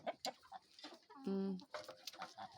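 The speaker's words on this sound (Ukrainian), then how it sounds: "Це сіра велика порода називається цих гусей." Honking and clucking of large grey domestic geese nearby, with one loud, harmonic honk standing out amid ongoing chatter from the flock.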